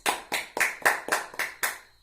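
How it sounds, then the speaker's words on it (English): Classroom applause for a student: seven crisp, evenly spaced hand claps, close and fairly quiet, each ringing briefly before the next. "Give him a round of applause"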